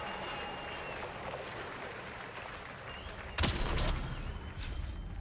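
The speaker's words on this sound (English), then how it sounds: "I hear the crowd well enough." A large gladiator arena crowd roars in a steady, dense wash of cheering, with a sudden louder surge about two-thirds through that then holds at a higher level.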